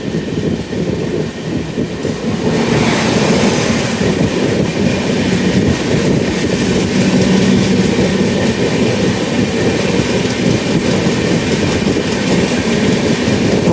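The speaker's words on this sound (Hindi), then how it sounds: "बनारस वंदे भारत के पीछे ये ट्रेन खड़ी है अपने सिग्नल के लिए" Loud rumble of an Indian Railways train, the Barauni–Gondia Express, heard from on board, a continuous roaring rattle with rhythmic wheel clatter throughout.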